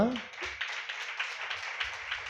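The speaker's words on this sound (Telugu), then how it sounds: "చప్పట్లు కొట్టరా" A congregation claps steadily and continuously at a church sermon, a dense patter of applause filling the room, with a brief voice at the very start.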